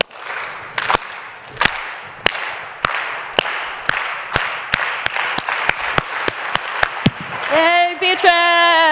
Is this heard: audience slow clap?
yes